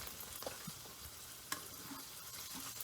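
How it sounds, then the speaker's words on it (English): Onions sizzle and crackle in a pan, a low, steady frying hiss with occasional stirring scrapes and pops, faint and close with no talking. "I add my onions"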